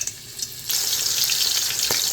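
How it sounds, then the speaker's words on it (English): A sudden loud sizzle of onion hitting hot oil starts partway through and keeps crackling steadily. "You see that? It's sizzling, so that means it's extremely hot."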